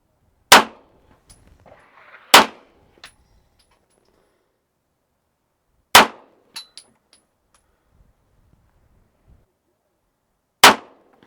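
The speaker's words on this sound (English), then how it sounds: "I'm going to load up the 147 grain matched Syntech ammo and shoot at the bullseye on the right" Federal Syntech 147 grain match rounds are fired at a target as four sharp, loud gunshots spaced several seconds apart, with faint handling clicks between them.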